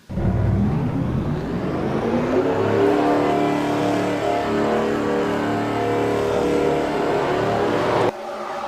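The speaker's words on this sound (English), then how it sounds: "Drivers, start your engines." Race car engines in a racing video game, at Indianapolis for the CCS 2022 Dogecoin 250, fire up and rev together in a loud, sustained roar that climbs in pitch, then drops off abruptly near the end.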